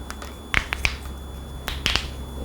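Several sharp, quick joint cracks from someone pressing their own joints come in small clusters, close and fairly quiet against a low background hum.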